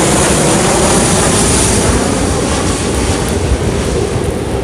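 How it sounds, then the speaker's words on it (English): Propeller airplane passing overhead as a loud, steady, broadband roar filling the whole stretch, no talking. "Like this airplane is annoying."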